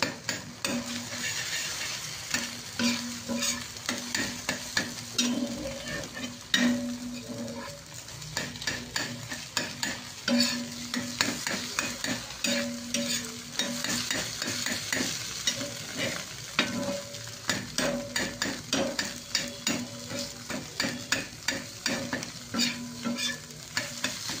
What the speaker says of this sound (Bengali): ডিমটা ভালো করে নেড়ে ছেড়ে নেব যতক্ষণ না ফ্রাই হবে।